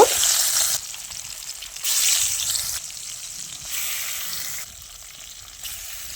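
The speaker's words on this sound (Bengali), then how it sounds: "এবার আমি মাছগুলো ভেজে নিব" Hilsa fish pieces frying in hot mustard oil in a kadai, a steady loud sizzle that swells and fades in several waves, with no talking.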